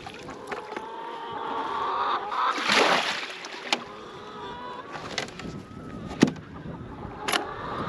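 A chicken waterer is being rinsed out: faint sloshing and splashing water with a few light plastic knocks and clatters, quiet and close, without talking.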